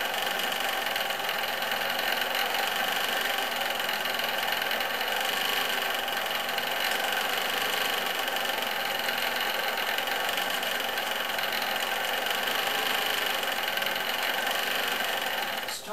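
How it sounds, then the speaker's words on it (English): A great wheel spins steadily while cotton is spun into yarn, producing a continuous mid-level whirring hum with a faint rhythmic rattle throughout, with no voices present. "pinch it off, spin up the wheel, put your extra twist in"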